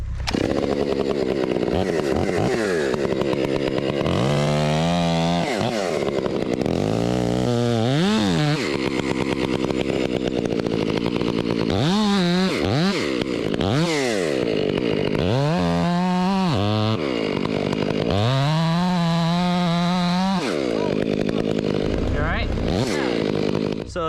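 Ported chainsaw cutting a tree, loud and close, revving in repeated surges with the pitch dropping as the chain bites into the wood, then rising again between cuts.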